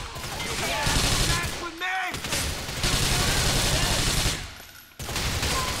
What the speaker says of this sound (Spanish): Es que esta tiene una cadencia de disparo,